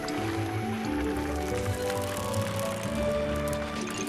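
Water splashes and squishy, liquid sounds from ancient water being sprayed in the video game Slime Rancher, a dense continuous burst layered over the game's bright music, no voices.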